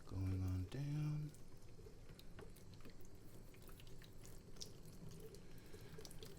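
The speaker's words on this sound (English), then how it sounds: "Rinse it off." Water rinses scale off orchid leaves, a soft running trickle and splash that stays quiet and close, while a voice briefly hums or speaks at the start.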